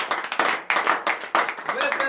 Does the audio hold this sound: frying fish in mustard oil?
no